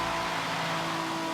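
Twin-turbocharged V6 of a rear-wheel-drive Korean car in Forza 7 holds a steady, faint engine drone for a brief moment, with no voices.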